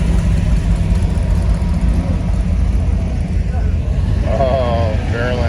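A Ford Fairlane with a 427 engine at an outdoor hot rod picnic, giving a loud, steady, low-pitched rumble close by, with people talking over it.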